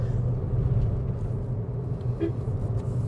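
Maruti Suzuki Brezza turbo facelift accelerating on the road, a steady low engine and road rumble from inside the cabin while someone talks over it.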